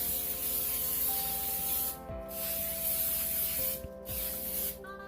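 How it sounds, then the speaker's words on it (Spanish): Oil sprays from a can into pie molds in a kitchen, a close, continuous hiss in several bursts with short breaks and no talk. "Vamos a empezar agregándole a nuestros moldes el aceite."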